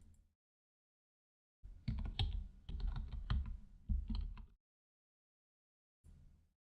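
Keys are typed on a computer keyboard in a quiet room to insert text into an Adobe Acrobat 8 document. There is a brief start, a steady burst of close keystrokes lasting about three seconds, and a short final flurry.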